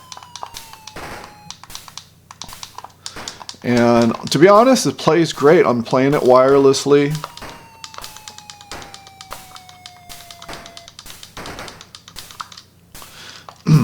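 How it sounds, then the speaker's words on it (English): Plastic button clicks on an Atari Intellivision Sprint wireless controller firing in Astro Smash, scattered sharp taps, some under a voice talking partway through, with faint game tones in the background. "I'm clicking on my controller to fire"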